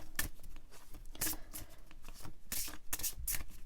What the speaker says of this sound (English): Let me just do a quick little shuffle.